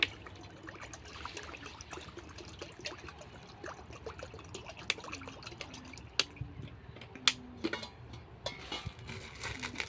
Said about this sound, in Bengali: এবার পানি দিয়ে দেবো চাউমিনটা সেদ্ধ করার জন্য